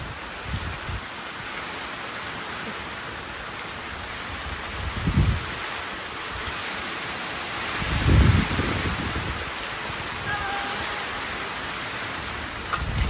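Steady storm rain pours down in a constant hiss, with a couple of low thunder rumbles swelling briefly partway through.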